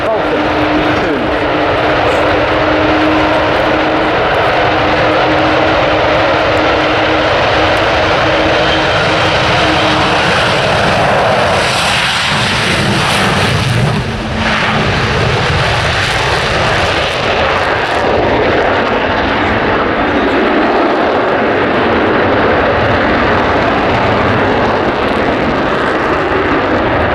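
Cold War jet aircraft at RAF Waddington beginning its takeoff roll, a loud sustained roaring engine close by, swelling in intensity throughout.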